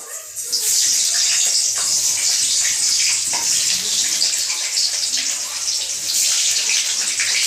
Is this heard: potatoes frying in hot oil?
yes